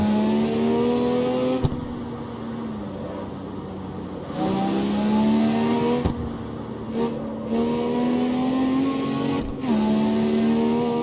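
A Lamborghini engine in the racing game CarX Street revs steadily and loudly, its pitch climbing repeatedly with brief dips between gear shifts, alone with no voices.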